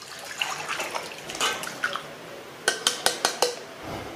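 Fish wash water poured from a small container into a larger one, with splashy liquid sounds and several sharp clanks of the vessels knocking together near the end, close and fairly quiet, with no voices.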